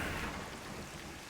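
Rain and a thunder rumble in a survival video game's stormy outdoor setting form a dense, steady roar, loud and unbroken, with no speech.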